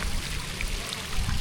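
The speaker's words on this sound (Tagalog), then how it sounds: "Ito po shower niya." A shower runs steadily, a dense hiss of falling water that stays constant and fairly loud, with no voices over it.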